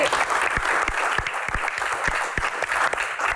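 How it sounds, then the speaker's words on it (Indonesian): An audience at a Q&A show breaks into applause, a burst of crisp, uneven hand claps from a small crowd, fairly close and continuing for a few seconds. "Akamsi, tepuk tangan dong Akamsi"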